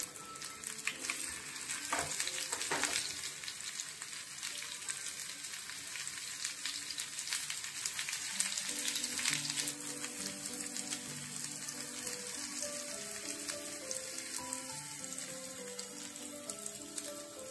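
Stuffed okra frying in hot oil in a pan, a steady close sizzle and crackle throughout with occasional stirring and clinks, no talk.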